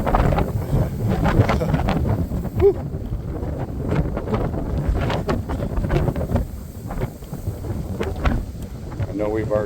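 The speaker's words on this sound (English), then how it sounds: "even though it's windy" Strong gusts of 30-plus mph wind buffet a hilltop lookout over a lake in Maplewood State Park, roaring and thumping on the microphone steadily throughout, with people talking under it.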